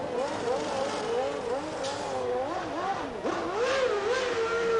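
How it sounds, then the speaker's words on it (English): A Formula 1 car with a Renault V10 engine revs hard in the pit lane at the 1993 Japanese Grand Prix, its high wavering engine note rising and falling steadily throughout, with commentary voices underneath. "Alan Prost making sure he doesn't stall it. He certainly had plenty of revs. Wound on the old Renault V10 engine"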